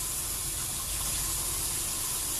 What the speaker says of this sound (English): Just going to let the water heat up a little bit.